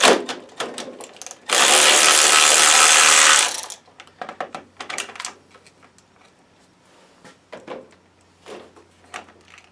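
A fastener is removed from the wheel hub of a self-propelled lawn mower, giving sharp metallic clicks and ratcheting taps followed by a loud sustained buzzing whir of about two seconds, then scattered close clinks and handling noises.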